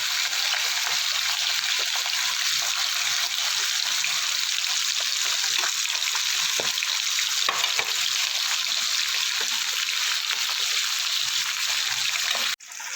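Small charapona fish fry in hot oil in a small pan, giving a steady, close, loud sizzle with crackling pops throughout, cut off abruptly at the very end.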